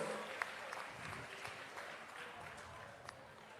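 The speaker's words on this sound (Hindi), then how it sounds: "जोरदार ताली आप सबकी ओर से।" Audience applause at the inauguration ceremony of the Rajgir Mahotsav 2024 in Nalanda, a steady wash of clapping held at a fairly faint, even level throughout, with a few voices mixed in.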